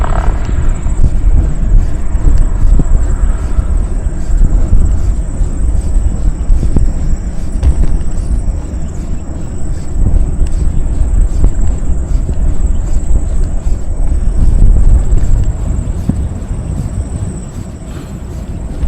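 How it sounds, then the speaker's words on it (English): Steady, loud wind gusts roar and buffet close by during a walk along a rural route in Pennsylvania, with a constant high insect-like whine running throughout and no talking. "It's a little breezy, but not cold."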